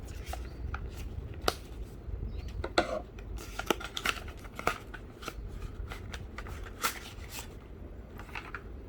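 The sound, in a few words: unboxing a Monster Hunter Rise game storage card package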